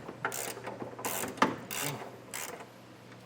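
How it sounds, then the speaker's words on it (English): A hand ratchet turns a 15mm socket to remove a bumper bolt on a 2026 GMC Sierra 1500 pickup. Several short bursts of rapid metallic clicking are close and distinct, with brief pauses between strokes. "So 15mm socket, we're going to get this bolt taken off."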